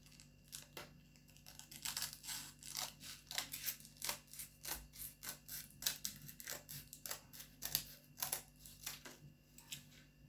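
Scissors trimming velcro around the edge of an old detail sander's backing pad, a close, quiet series of crisp snips in an uneven rhythm, about twenty cuts.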